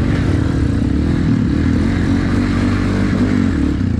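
A motorcycle runs steadily on a road in Balochistan, its engine a continuous, loud drone with rattling and road noise, with no voices over it.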